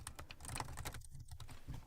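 Typing on the keyboard of a Lenovo Idea Tab Plus 12.1 tablet, a quick run of soft, close key clicks heard alone with no talking.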